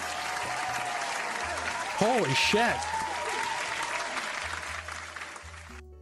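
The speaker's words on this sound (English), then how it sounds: "Round of applause for that." Sustained crowd applause rolls on steadily at close range, with a voice briefly exclaiming over the clapping partway through.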